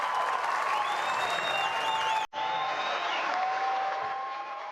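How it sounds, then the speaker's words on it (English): Canberra United supporters applaud and cheer after a headed goal at an A-League women's football match against Western United, a broad crowd roar with faint commentary tones over it, briefly cut then continuing. "So huge round of applause there from the Canberra fans."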